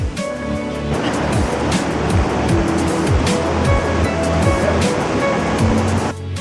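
A fast-flowing river rushes below a swaying metal suspension bridge on the way to Everest Base Camp, a loud, dense roar of water heard close, with repeated clanks and creaks of the bridge over it.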